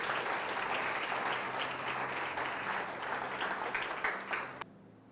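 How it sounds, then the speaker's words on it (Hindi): Dense, sustained applause from a church audience at a Hindi sermon, steady clapping from many hands that cuts off abruptly near the end. "ताली बजा सकते हो अगर विश्वास करते हो।"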